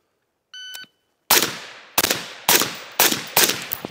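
A shot timer's electronic beep, then five loud, close gunshots at a shooting range, evenly spaced about half a second apart, each cracking sharply and trailing a brief echo.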